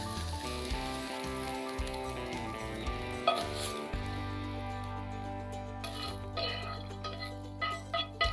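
Broccolini and pumpkin seeds sizzle and are tossed in a hot pan, a soft steady frying hiss with light clinks and pan knocks under background music.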